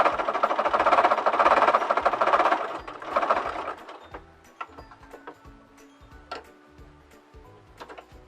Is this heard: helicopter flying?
no